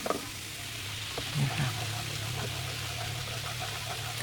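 Fish sauce dressing simmers in a pan with a steady low bubbling hiss and a few soft pops, continuous and close throughout.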